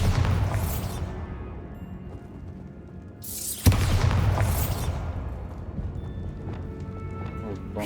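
A Bombarda explosion spell goes off in Hogwarts Legacy, a loud broadband blast near the four-second mark that then rings out amid continuous game sound and a speaking voice, with a second bright burst earlier in the clip.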